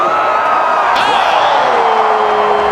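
Spectators at the X Games Aspen 2022 men's snowboard SuperPipe cheering a run: a loud, sustained roar of whoops and yells beneath a commentator talking.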